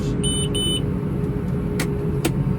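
A New Holland T7 tractor engine runs with a steady, loud low rumble as it throttles up. A few short electronic beeps and brief clicks sound over it.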